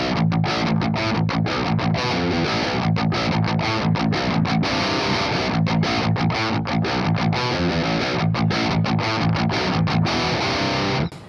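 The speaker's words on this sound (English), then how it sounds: "So with the pedal completely off, my tone sounds something like this." A heavily distorted high-gain 7-string electric guitar, overdrive pedal off, playing chugging low riffs with sharp rhythmic stops, loud and continuous, with no talking.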